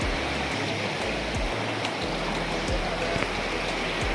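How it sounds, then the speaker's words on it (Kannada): A stream flowing along the trekking trail near Hebbe Falls makes a steady, close rushing wash of water, with occasional low thumps beneath it. "ನೀರು ಹರಿತಾ ಇದೆ"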